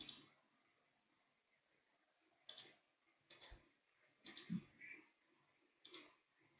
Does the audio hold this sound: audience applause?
no